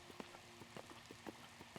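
Steady rain patters across the ground in Legend of Zelda: Breath of the Wild, a dense even wash of drops with scattered small splashes, heard alone at a moderate, fairly close level.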